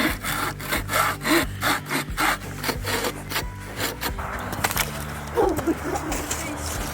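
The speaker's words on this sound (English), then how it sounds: "Now you guys have to cut it up for firewood," A hand saw cuts through a log for firewood outdoors, rhythmic back-and-forth rasping strokes at close range, quick at first, then slowing into rougher, uneven scrapes.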